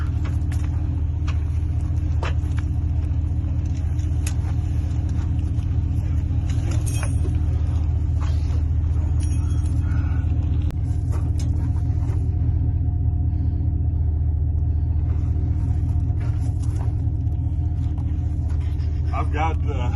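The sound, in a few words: vehicle engine running in low gear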